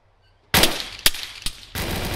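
Crossfire erupts in an ARMA 3 battle after a quiet start: loud, close bursts of automatic gunfire with a few sharp separate shots, ending in sustained shooting.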